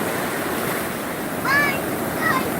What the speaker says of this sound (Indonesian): kayak inilah suasana pantai